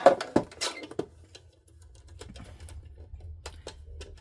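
A small paper trimmer cutting a luggage tag, giving a few sharp clicks and scraping slices of the blade, then quieter faint ticks against a low background hum, close by with no talking.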